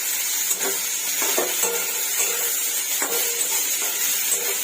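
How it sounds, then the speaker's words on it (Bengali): Sliced bitter gourd fries in a pan at home with a steady close hiss and sizzle, broken by soft stirring scrapes and light clinks of a utensil against the pan, with no voices. "দেখো করলাটা প্রায় ভাজা হয়ে গেছে"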